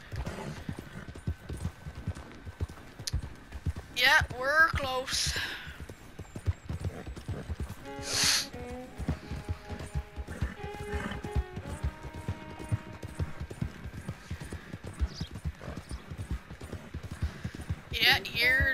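Hooves of Maverick, a fast horse in the Red Dead Redemption 2 video game, clip-clop in a steady galloping rhythm through the whole stretch, with a few whinnies, game music and someone talking over it.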